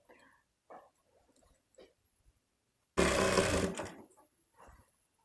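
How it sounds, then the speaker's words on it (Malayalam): A sewing machine stitches the lining cloth of a baby's yoke frill frock, one loud close burst of about a second, with quiet handling sounds and short soft noises before and after. "അതിന് ശേഷം ലൈനിങ് ക്ലോത്തും സ്റ്റിച്ച് ചെയ്തെടുക്കുക കേട്ടോ."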